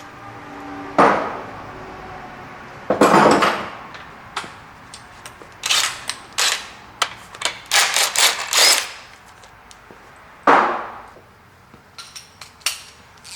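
Metal clanks, taps and rattles while a timing cover is worked off a Jeep 4.0 liter inline-six short block, with scattered sharp hits and a few louder bursts amid quieter pauses, no talk.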